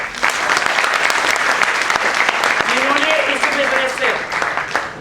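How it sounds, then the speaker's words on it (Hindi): Audience applause at a sales training seminar, a loud, dense wash of clapping from a large crowd that runs steadily throughout, with a voice speaking over it partway through. "और आज एक बार जोरदार तालियां"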